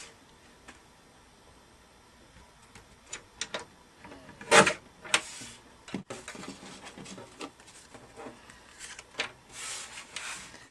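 Paper for a scrapbook layout being cut with a paper trimmer, a few soft ticks and one sharp slicing swipe, then light rustling and handling, quiet and close, no talk.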